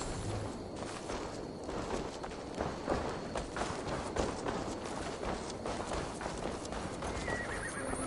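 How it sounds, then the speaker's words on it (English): Horse hooves clip-clop steadily in Assassin's Creed Valhalla, with occasional whinnies over a busy in-game ambience; the rhythmic hoofbeats stay fairly close and moderately loud throughout, with no talk. "Now to deliver Magni his horse."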